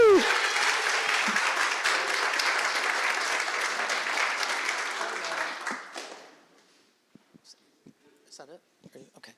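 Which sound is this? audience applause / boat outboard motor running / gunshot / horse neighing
audience applause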